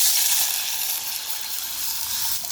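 Water poured into browned, smoky butter and garlic in a saucepan over medium-low heat sizzles loudly and steadily from start to finish, close up with no talk.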